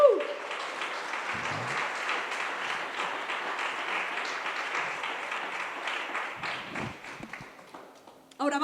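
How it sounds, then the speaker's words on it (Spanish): A church congregation applauding during a sermon, a sustained dense round of clapping from many hands that fades near the end before a voice returns. "¿Le puedes dar un aplauso al Señor?"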